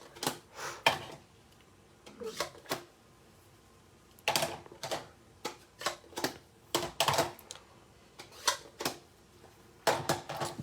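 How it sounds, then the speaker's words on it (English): Scissors fussy-cut small paper pieces in short bursts of crisp snipping, quiet and close, with pauses between groups of cuts. "I find it's easier if I cut out the individual little pieces first"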